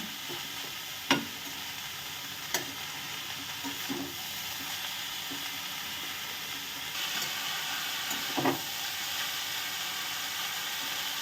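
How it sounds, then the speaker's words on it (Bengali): Cabbage frying with spices, a soft continuous sizzle with several distinct spatula scrapes and knocks as it is stirred, close by and fairly quiet, with no talking. "বাঁধাকপিগুলোকে মশলার সাথে ভালো করে মিশিয়ে নিতে হবে"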